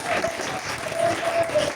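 Church congregation applauding during a French-language sermon at a Pentecost service, a steady wash of clapping and crowd noise sustained throughout at moderate level.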